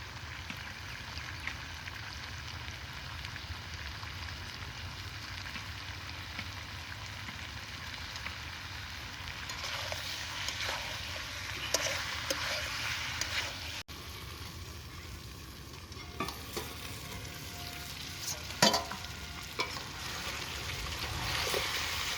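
Goat head meat sizzling and frying in a pan as it is stirred, a soft, steady crackle and hiss with occasional louder scrapes and pops, fairly quiet and close.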